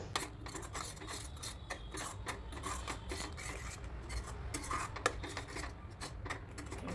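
A spoon stirs palak paneer mixture in a pan, with continuous close scraping and rubbing and light metallic clinks in an irregular rhythm, with no talk over it.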